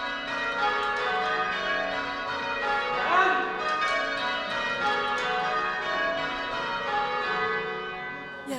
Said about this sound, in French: Au bout de 8 heures debout à sonner les cloches,